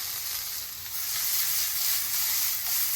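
Onions frying in a very hot pan, giving a loud, steady, bright sizzle that swells slightly partway through, close and continuous with no talking.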